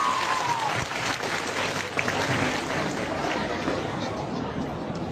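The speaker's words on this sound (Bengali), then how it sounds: "তাদের জন্য একদম সবচেয়ে বড় একটা জোরে করতালি দেওয়া যেতে পারে নাকি?" An audience at a 21 February cultural programme claps with a sustained patter of applause, mixed with crowd chatter and a little laughter.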